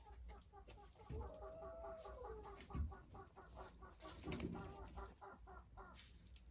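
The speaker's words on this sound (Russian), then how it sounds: "мои куры на даче живут сами" Hens in a dacha coop cluck nearby in repeated short calls, with one drawn-out rising cackle among them, steady and fairly close.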